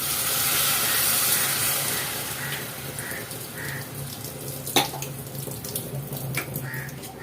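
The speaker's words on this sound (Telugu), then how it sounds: "ఇదిగోండి 1 గ్లాసు వాటర్ అయితే వేస్తున్నానండి." A glass of water is poured into a cooking mushroom curry, giving a steady rushing, hissing splash that fades into quieter bubbling and a few clinks.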